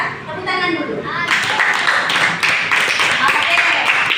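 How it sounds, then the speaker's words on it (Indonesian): An Indonesian classroom of students claps hands in a brief round, the fast clapping starting after a moment of talk and continuing steadily, mixed with voices. "Tepuk tangan dulu."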